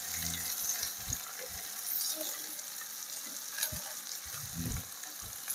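Ice-apple pizza mixture frying in a pan on the stove, a steady soft sizzle with occasional scraping knocks as it is stirred, quiet and close.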